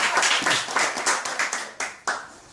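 A small group claps in a loose, uneven patter of hands for a few seconds, thinning toward the end with a couple of last isolated claps, close and moderately loud in a casual conversation-class setting.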